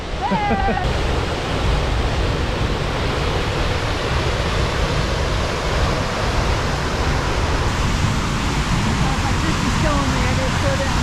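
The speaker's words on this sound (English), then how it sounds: "Another waterfall." Steinfossen waterfall in Norway roars as a steady, loud broadband rush that fills the whole clip, with a voice briefly heard near the start.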